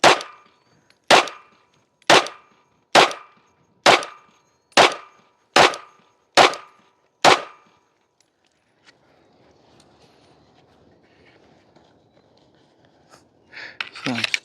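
Pistol shots at a shooting practice range, heard as eight sharp, evenly spaced loud reports about a second apart, followed by quiet background noise.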